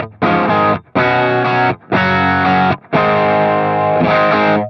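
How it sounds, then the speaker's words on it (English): Clean electric guitar through a Line 6 Helix, dry with no reverb, playing four strummed chord bursts separated by short silent gaps, each cutting off abruptly. "I've got a Line 6 Helix set up with a cleanish guitar tone. It sounds like this, just dry with no reverb."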